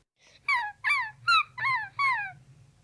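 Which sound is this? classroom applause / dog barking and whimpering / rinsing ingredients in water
dog barking and whimpering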